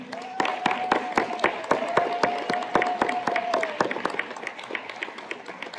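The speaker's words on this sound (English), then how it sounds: "And let's give a round of applause for the class of 2020." Graduation ceremony audience for a HiSET graduating class applauds with sparse, sharp claps in a steady, almost rhythmic pattern, accompanied by a sustained tone. The clapping fades out toward the end.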